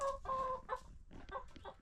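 Several chickens cluck and squawk in a backyard chicken run near the coop, a busy overlapping chatter of short calls heard close by, with no speech.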